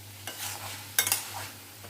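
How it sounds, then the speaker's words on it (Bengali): Fried paneer cubes are stirred into a paneer roll filling in a pan, giving close spoon-scraping strokes over a light sizzle, with one brief louder clatter midway and no voices. "এবার আমি ভেজে রাখা পনিরগুলো এর মধ্যে দিয়ে দিলাম।"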